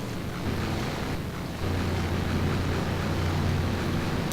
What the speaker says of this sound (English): That big Dodge engine.